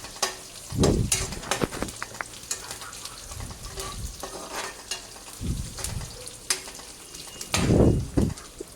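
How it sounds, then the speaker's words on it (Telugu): Onion and curry leaves fry with cumin and chana dal in a pan, giving a steady sizzle with intermittent stirring and scraping bursts, fairly close and moderately loud, with no talking. "జీలకర్ర పచ్చనగపప్పు యాడ్ చేసుకోవాలి ఆ తర్వాత ఉల్లిపాయ కరివేపాకు వేసుకొని ఇలా కొద్దిసేపు బాగా ఫ్రై చేసుకోవాలి"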